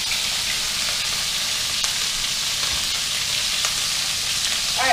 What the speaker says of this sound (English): you're going to leave them there for about a minute to two, just so they can get like a nice sear on them